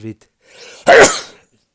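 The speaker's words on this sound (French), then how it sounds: "excusez-moi, je vais éternuer" A single close, loud sneeze bursts out after a short sharp inhale, following a brief spoken word.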